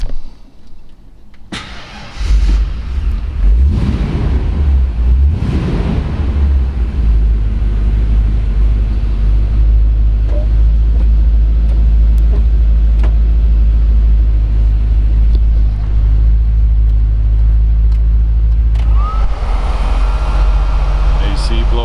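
A 1952 Mercury Monterey convertible resto-mod engine cranks with a few rough bursts before catching, then idles with a loud, steady low rumble close by, with a brief knock near the end.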